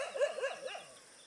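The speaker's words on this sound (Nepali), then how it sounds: "पुरा गयो गयो है तिनीहरू, भुक्दै भुक्दै, कुकुरको पनि आफ्नो एरिया हुन्छ नि त" Dogs bark a few times in quick succession in a rural Nepali village area, the calls fairly close and yelping, then fading into quiet with no talking.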